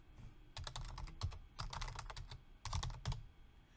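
Bursts of quick keystrokes on a computer keyboard as a command is entered, close and clear, clustered into short runs of clicking separated by brief pauses.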